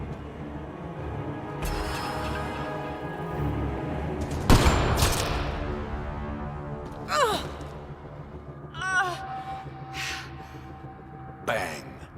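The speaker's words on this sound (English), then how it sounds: "Sniper, his sights are set on Sloane" A sniper rifle shot rings out in the video game Mass Effect: Andromeda, one loud sharp crack mid-scene among breathy vocal sounds and other effects.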